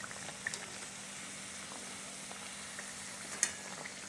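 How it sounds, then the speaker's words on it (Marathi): Oats cutlets fry in oil with a low, steady bubbling sizzle throughout, faint and even, punctuated by a couple of small pops and light clinks, with no one talking. "आता आपण हे तळून घेऊ। बघा असं आपलं खरपूस तळून घ्यायचं आहे।"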